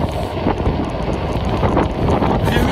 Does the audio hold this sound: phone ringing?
no